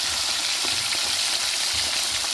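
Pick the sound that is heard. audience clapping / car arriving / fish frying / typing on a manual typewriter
fish frying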